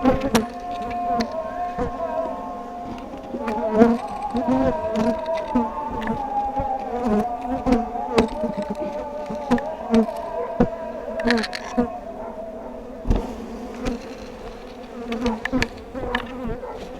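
Dense, steady buzzing of many bees swarming from an opened beehive that is being tended, close and loud throughout with scattered sharper wingbeat accents and no talking.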